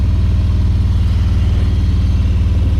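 Harley-Davidson motorcycle engine while riding, a loud, steady low rumble with a pulsing beat that holds evenly throughout, close and alone.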